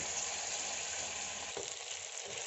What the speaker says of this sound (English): I'm going to dip it in the maida and going to fry them